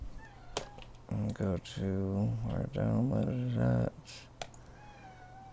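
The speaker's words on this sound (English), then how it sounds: "excuse my cat for being so loud" A cat meows loudly several times in a row, drawn-out wavering calls close to the microphone, with someone speaking briefly beforehand and faint keyboard clicks around it.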